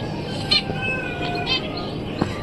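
Pet finches chirp while building a nest, giving a few short, bright chirps over a steady background hiss at moderate distance.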